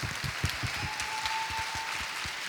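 Audience at a Dutch drag event applauding, scattered individual claps fairly distinct and moderately close, a modest round rather than a roar.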